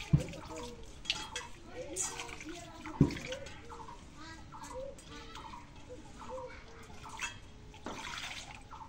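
Lentils are washed by hand in water, with sloshing and splashing in an outdoor setting, under soft, faint talk and occasional animal bleats nearby.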